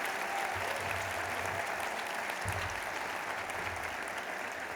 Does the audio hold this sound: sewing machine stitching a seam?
no